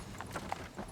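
Hooves of a milkman's horse clip-clopping on a street, a few soft separate steps close by, then slowing as the horse comes to a stop.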